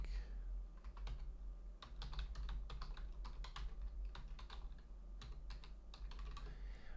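Steady, quiet typing on a computer keyboard, with rapid close key clicks in irregular bursts over a low background hum and no speech.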